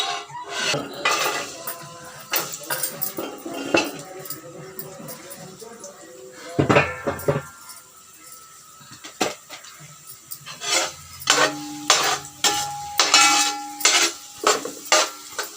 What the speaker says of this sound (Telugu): ఇది బాగా వేయించుకుని మరగ వచ్చేలా గోల్డెన్ కలర్ వచ్చి జీడిపప్పులు